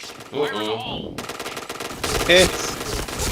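Rapid bursts of automatic gunfire from a shooter video game, loud and close, with overlapping sound effects and game audio in the background.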